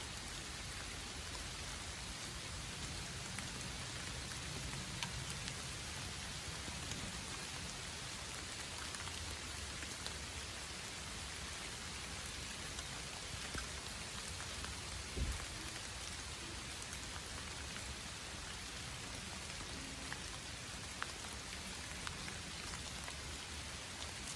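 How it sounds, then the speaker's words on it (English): Steady outdoor rain falls during repairs on a hunting treestand, a dense, even hiss of drops on surfaces that continues unbroken for the whole stretch, with no voices. "It wasn't supposed to rain today."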